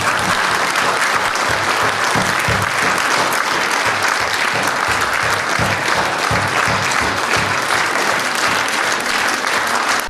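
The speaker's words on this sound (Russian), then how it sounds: "этот человек заслуживает аплодисменты стоя" Sustained standing applause from a large audience honouring the president of the Moldovan Academy of Sciences at an honorary title ceremony, dense and steady clapping filling the room for the full stretch without pause.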